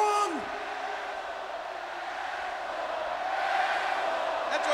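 A wrestling arena crowd cheers and roars in a broad, distant wash that swells toward the end, with faint voices mixed in.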